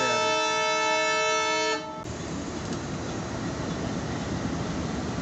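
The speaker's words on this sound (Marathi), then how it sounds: "ऑरेंज झालं सिग्नल, हॉर्न वाजवेल आता" The Parbhani–Nanded passenger train sounds a loud, sustained horn blast for about two seconds, close by, then it cuts off and leaves a low idling rumble.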